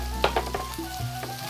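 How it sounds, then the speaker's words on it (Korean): Chopped stock vegetables sauté in oil in a pot for beef bourguignon, a steady close sizzle with a few light stirring clicks. "아까 썰어두었던 육수용 야채들을 냄비에 넣어주고 팬이 너무 드라이하다 싶으면"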